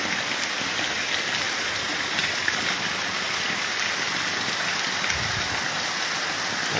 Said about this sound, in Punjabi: ਮੀਂਹ ਜ਼ਬਰਦਸਤ ਹੈ